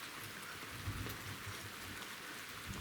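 Light rain falling outdoors, a steady soft patter on surfaces with no voices, constant and fairly quiet throughout.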